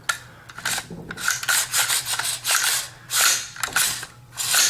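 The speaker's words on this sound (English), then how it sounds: "I'm going to go ahead and check my bolt to make sure it's moving properly" An AR-15 bolt worked back and forth during cleaning, giving repeated metallic sliding and rasping strokes at a steady rhythm, close and fairly loud, with no talking.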